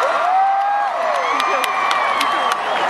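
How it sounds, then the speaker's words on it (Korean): Large concert crowd at an LA K-pop festival cheering, whooping and clapping for a singer coming on stage, a loud continuous roar with high shrieks and sharp claps throughout. "큰 박수"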